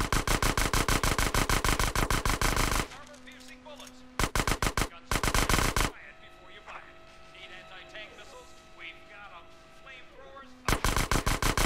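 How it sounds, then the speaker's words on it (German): A Micro SMG fires in GTA San Andreas in long, rapid automatic bursts, loud and close, broken by short pauses with quieter game ambience and a few brief bursts between them. "Micro SMG schießen siegreich bestanden."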